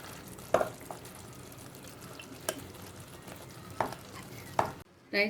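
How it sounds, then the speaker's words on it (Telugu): Pre-cooked basmati rice goes into a chicken 65 biryani pan and is stirred: a few sharp scrapes and taps of the spoon at irregular intervals over a faint steady sizzle, close by with no talking. "ముందుగానే బాస్మతి రైస్ ఉడికించి పెట్టుకున్నాం కదా, ఇది ఇప్పుడు ఇందులో రైస్"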